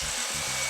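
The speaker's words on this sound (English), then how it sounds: "we just cut this top rail using a 12-inch miter saw" A 12-inch miter saw cuts a Trex composite fence top rail, giving a brief, loud, steady whining roar up close that fills the short moment.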